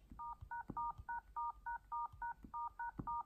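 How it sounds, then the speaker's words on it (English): Touch-tone keypad beeps on an iPhone as the star and hash keys are pressed repeatedly, about a dozen short, clear two-tone bleeps in a quick, even rhythm, fairly faint and close, with no talking. "go to dial, keep pressing star hash."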